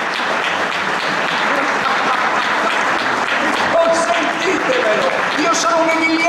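An audience at a poetry award evening applauds, a sustained, fairly loud wash of clapping that holds evenly, with faint voices and a few brief tonal sounds mixed in near the end.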